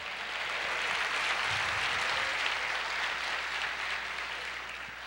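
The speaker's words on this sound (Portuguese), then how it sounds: "Você pode dar uma salva de palmas para Jesus?" A church congregation claps together in sustained, dense applause, heard at moderate distance and fading slightly toward the end.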